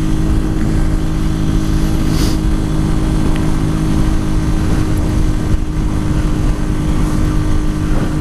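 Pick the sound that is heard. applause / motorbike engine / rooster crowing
motorbike engine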